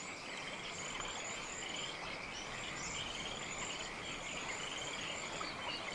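Tree frogs in the Camargue wetlands of Provence call in a dense, continuous chorus, mixed with chirping insects, steady and moderately distant with no voices.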